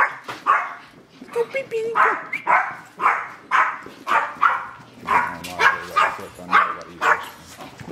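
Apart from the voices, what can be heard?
puppies barking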